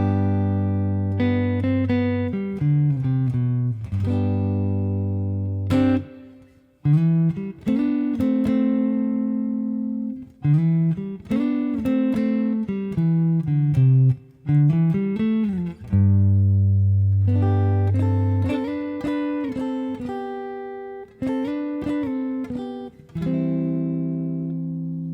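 Electric guitar playing the third verse of a song, clean sustained chords mixed with plucked single notes and slides, close and full, continuous with short gaps between phrases and no voice.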